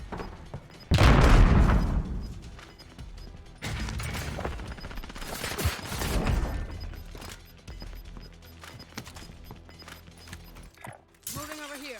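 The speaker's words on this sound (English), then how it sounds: "Grenade out." Grenade explosion and gunfire in a multiplayer shooter video game, heavy booming blasts and crackling bursts rising and falling over several seconds, with a player's voice talking over the action.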